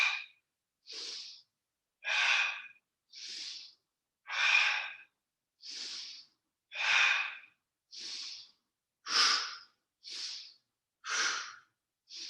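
Slow, deep breaths at a steady pace during a fast-moving power yoga flow, about a dozen airy inhales and exhales close to the mic, each lasting close to a second with short gaps between, no talking.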